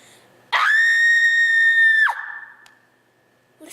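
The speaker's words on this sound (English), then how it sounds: "Scream again." A woman lets out one loud, sustained, high-pitched scream lasting about a second and a half in a stage performance, cutting off sharply into near silence.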